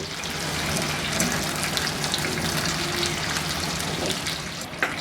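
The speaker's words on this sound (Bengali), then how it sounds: "মিনিট 5 ভেজে এগুলো বাদামি বাদামি হয়ে গেলে আমি এগুলোকে তুলে নিব।" Medium-sized cauliflower pieces frying in oil, a dense, continuous close sizzle with scattered pops and crackles over the whole stretch.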